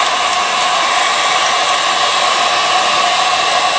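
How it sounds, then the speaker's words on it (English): A heat gun blows hot air in one continuous, steady, loud hiss with no breaks, held close while warming a part during a Johnson 5.5 outboard water intake screen replacement; no one speaks. "Heat gun, I'm just going to warm it up."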